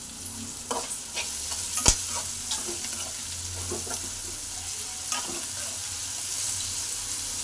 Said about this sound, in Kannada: ಲವಂಗ, ಮರಾಠಿ ಮೊಗ್ಗು, ಪಲಾವ್ ಎಲೆ ಎಲ್ಲ ಫುಲ್ ಎಣ್ಣೆಯಲ್ಲಿ ಫ್ರೈ ಮಾಡ್ಕೊತಾ ಇರೋದು